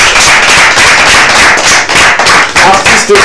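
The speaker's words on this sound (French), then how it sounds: "On applaudit très fort." Loud, dense applause from a studio audience on a Togolese television show, continuous rapid clapping close to the microphone, sustained for a few seconds without pause.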